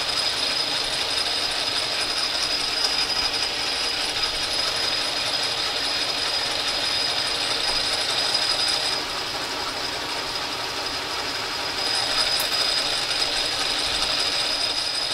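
Metal lathe cutting a thread as the compound is fed into the stock, a steady mechanical whir with a high tonal whine and dense rapid clatter, briefly dipping midway before resuming.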